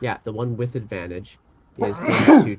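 A single loud, close sneeze bursts out after a stretch of speech and a brief pause, during a tabletop role-playing game session.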